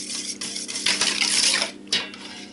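Ingredients for shelpek dough are stirred in a bowl, making wet, scraping swishes that swell and fade, with a short clank of a spoon against the side near the end.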